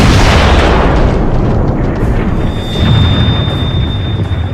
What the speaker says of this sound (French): Les canons Skoda de l'artillerie autrichienne entrent en action contre Belgrade.